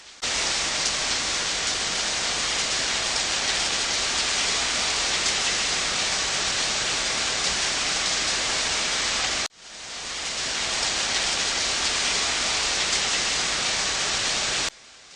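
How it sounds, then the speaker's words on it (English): Heavy rain pours down during floods in Sichuan, a loud, dense, hissing roar that runs steadily, cuts out briefly, then resumes just as strong. "The rain just kept coming."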